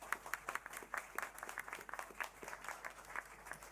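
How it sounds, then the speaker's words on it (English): A small audience at an election debate gives a candidate a quiet round of applause, with distinct individual claps forming an uneven, moderately soft rhythm throughout. "Can I get a round of applause for Carme?"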